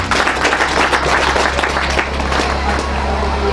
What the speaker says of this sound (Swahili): Hata kama haipo, mpigieni makofi